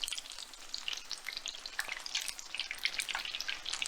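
Battered onion rings fry in hot grease in a pan, with a dense, crackling sizzle of many sharp pops and spits, close and continuous without any talk.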